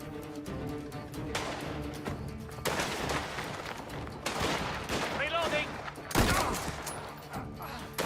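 Gunfire in Mafia: The Old Country: repeated sharp shots and short volleys over busy game ambience and music, with a voice talking at times among the bursts.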